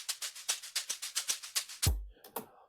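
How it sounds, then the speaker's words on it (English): An amapiano shaker loop sample, a rapid, even run of crisp, bright shaker hits, followed by a single deep kick and a couple of trailing hits at the end. "It's a shaker loop."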